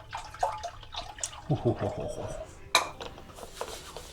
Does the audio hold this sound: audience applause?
no